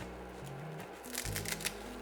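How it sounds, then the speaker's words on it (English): Scissors cut through toasted nori seaweed sheets in quick, crisp snips and crackles close by, growing busier toward the end, over a low background hum. "we take a pair of scissors, we just cut."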